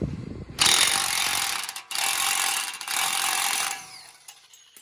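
A loud air impact gun removing an axle nut on a 2013 Chevy Equinox rattles in two long bursts separated by a brief pause, harsh and close, with no voices.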